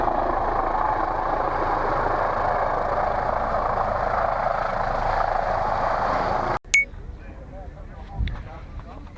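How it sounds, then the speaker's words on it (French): A helicopter lifts off close by at a downhill race in Lioran, its loud steady rotor and turbine roar filling the first six and a half seconds before cutting off abruptly, leaving faint background noise and a brief knock afterward. "il y avait un hélicoptère qui a décollé et ça a tout ravagé"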